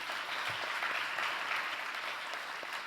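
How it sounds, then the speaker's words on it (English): Audience applause at a philanthropy summit conference panel, a steady, dense wash of clapping that holds evenly from start to finish at moderate loudness with no voices over it. "Please give him a quick round of applause"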